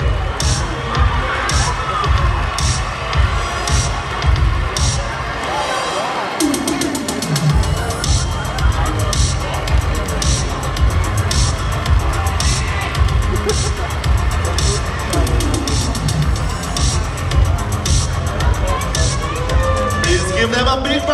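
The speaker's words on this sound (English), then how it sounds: "Give them a big round of applause once again." A large crowd at the Mister Global 2023 national costume competition cheers and shouts steadily and loudly, with children's voices, a rhythmic thumping beat underneath and an announcer's voice at times.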